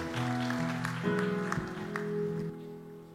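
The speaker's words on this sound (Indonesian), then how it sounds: "Kita berikan tepuk tangan sekali lagi yang meriah buat Tuhan kita." A church congregation claps over sustained organ or keyboard chords, the clapping scattered and moderate under the music before the sound drops away near the end.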